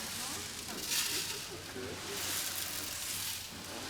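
A human voice imitates flowing water with hissing, gurgling mouth sounds, close and moderately loud, rising and falling in short bursts over a few seconds.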